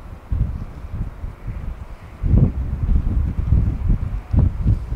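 Gusty wind buffets the microphone outdoors by a railway on a cold, sunny day, a low rumbling roar that swells and falls in uneven surges.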